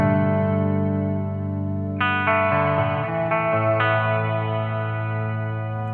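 A Catalinbread Cloak shimmer reverb pedal fed from an El Capistan on a guitar pedalboard rings out in sustained, layered chords with bright octave shimmer swelling as new notes enter, smooth and alone.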